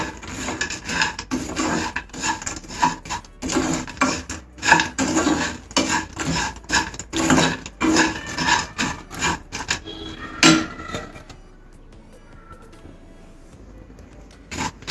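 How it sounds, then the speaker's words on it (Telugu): Fried crispy okra being tossed and mixed with garlic chili spice powder in a bowl, giving a steady dry scraping, rustling rattle for about ten seconds, then quiet. "ఇలా వేసుకొని ఒకసారి అంతా కూడా ఇది మిక్స్ చేసుకోవాలి"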